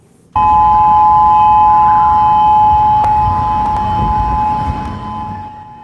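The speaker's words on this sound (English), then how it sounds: "that's the sound of the emergency sirens in Honolulu going off at this hour" Emergency sirens in Honolulu sounding during a tsunami warning, a loud sustained steady wail that starts abruptly and holds for several seconds, gradually easing slightly toward the end.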